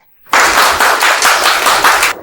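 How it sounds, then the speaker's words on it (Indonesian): A crowd at a lavish birthday celebration for a wealthy matriarch breaks into lively applause, bursting in suddenly after silence as loud, dense clapping that pulses in waves before cutting off. "Mari kita semua berikan tepuk tangan yang meriah."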